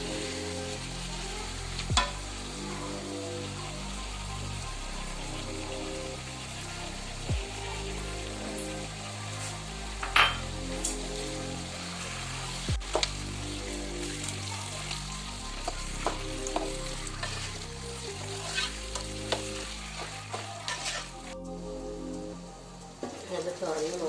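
Chicken pieces fry in a pan with ginger, garlic, green chili and coriander leaves, a steady close sizzle broken by scraping stirs and occasional sharp pops throughout.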